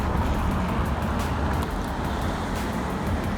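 At a dealer-only car auction, vehicles are driven into the auction lanes, giving a continuous rumble of engines and tires with steady road noise close by.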